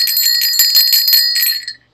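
A bright notification bell sound effect rings loud and close, giving a quick burst of shimmering metallic chimes that ring out for over a second before fading into silence.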